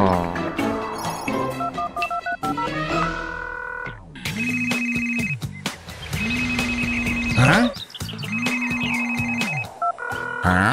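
A telephone rings in a children's car cartoon app, repeated electronic bursts, loud and close, with short gaps between rings and some music-like tones at the start.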